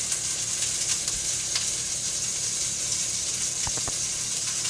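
A large steak browning in a very hot pan, giving a steady, close, loud sizzle with occasional sharper pops and crackles.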